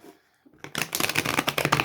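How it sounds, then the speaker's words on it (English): A deck of cards shuffled close up after a brief quiet moment, a quick riffling burst of crisp rapid flutters lasting about a second. "I always want to shuffle in front of you so you can see me struggle with it."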